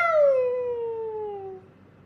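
A person imitates a cat's meow, one drawn-out descending mew lasting under two seconds, fairly close and clear with no other voices.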